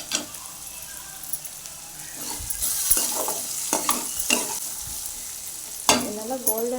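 Onions and potatoes sautéing in a pan for samosa filling, a low steady sizzle broken by several sharp scrapes and clinks of a spoon stirring, close up, with a short voice near the end.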